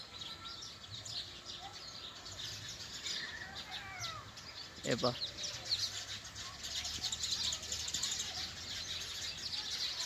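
Sparrows chirp in a babool tree in a rural village, with steady, bright twittering that carries throughout and a voice speaking briefly over it.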